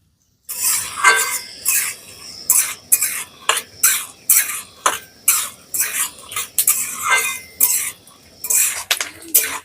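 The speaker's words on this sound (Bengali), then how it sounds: "এবারে সবকিছু নেড়ে চেড়ে খুব ভালো করে ভেজে নিতে হবে" A spoon scraping and stirring an onion mixture frying in oil, in repeated rhythmic strokes against the pan, close and clear over a soft sizzle.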